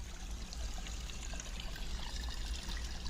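Water runs steadily from a pipe at a farmhouse, a continuous close pouring trickle with a low rumble, no voices.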